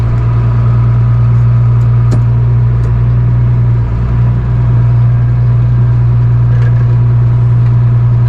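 Tractor engine running steadily with a loud, constant low drone throughout, used for long-arm ditch cutting, with a few faint clicks on top and no talk.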